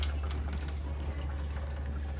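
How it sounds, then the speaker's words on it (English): Water runs steadily through a Waterdrop KJ-600 reverse osmosis filter system straight to the drain during a flush cycle, a constant close hiss and rush with a low hum underneath and no pauses. "It flushed for 60 seconds, which is just directly flushing through the drain."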